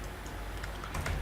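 Fast clicking keystrokes on a computer keyboard while writing ASP.NET MVC code, a steady close patter of taps getting slightly louder toward the end.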